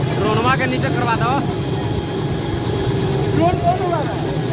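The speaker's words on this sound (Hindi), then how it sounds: "ड्रोन कौन उड़ा रहा है?" A small drone hovers overhead with a steady, whining buzz that sits under a loud, chattering crowd with voices talking throughout.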